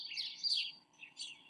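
Birds chirp in brief high twittering bursts, light and fairly close, with a short pause between calls and no voices.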